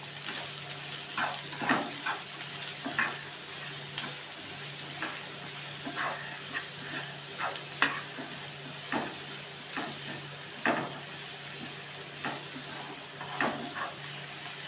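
Chopped onion sautéing in a pan for a paneer cutlet, a steady sizzle with occasional scraping stirs throughout.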